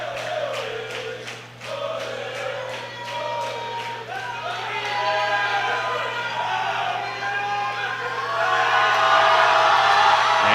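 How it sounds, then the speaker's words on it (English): Canadian supporters in the crowd at a junior powerlifting world championship cheer and whoop steadily, a dense roar of many voices that grows louder toward the end. "you can hear the Canadian supporters in the crowd"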